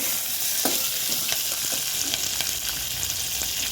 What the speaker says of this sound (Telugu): ఇంకా కొంచెం వేపుకోవాలి.